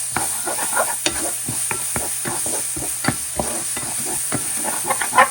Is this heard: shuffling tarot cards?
no